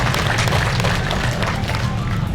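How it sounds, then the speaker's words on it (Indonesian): Steady, dense applause from a large crowd at the inauguration of the Banjaran healthy market, continuous and loud throughout with a low rumble of crowd noise beneath. "Tepuk tangan untuk semuanya."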